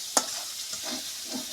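Ginger, garlic and cumin paste with chilli powder and salt stir-fried in oil for a tilapia and raw banana curry, heard as a soft close sizzle with a sharp initial scrape and gentle stirring strokes.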